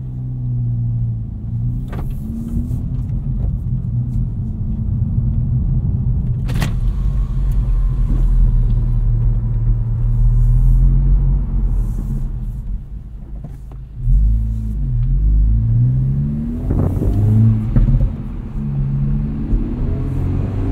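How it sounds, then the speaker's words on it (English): A 2024 Acura Integra Type S drives steadily on an early-morning road, with its turbocharged engine and exhaust giving a continuous, loud, rumbling drone that rises and falls slightly with throttle. There are no voices. "Big fan of the exhaust in this Integra Type S."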